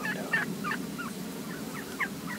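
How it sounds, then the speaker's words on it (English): A wild turkey hen calls near a hay bale blind, giving a quick series of short yelps and clucks in an uneven rhythm, moderately close over a quiet outdoor background. "There's a chatty hen right here."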